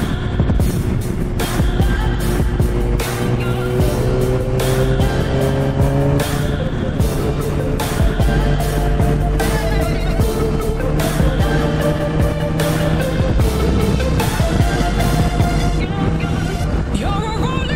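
A Suzuki GSX-R750 sport motorcycle rides along a coastal road, its engine loud and near, revving up and down through gear changes under steady wind rush for the whole stretch.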